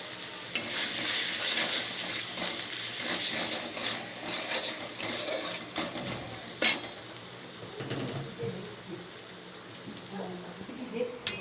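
Spices sautéing in a pan, a soft sizzle under repeated scraping and clinking of a spoon against the pan, with sharper clanks here and there and speech in places.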